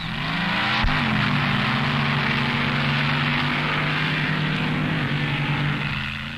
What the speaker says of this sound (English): Some unintentional wheelies and one intentional one with Wild Bill Shrewsbury at the controls of the Hurst's Hemi Underglass